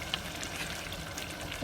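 Corned beef jollof rice simmering in a pot over lowered heat, giving a steady, soft bubbling sizzle with no talking.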